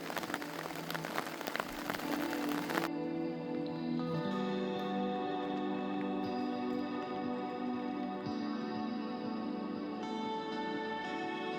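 Steady rain patters on a tent overhead, a dense continuous drumming that stays even throughout, with a brief louder rush at the start.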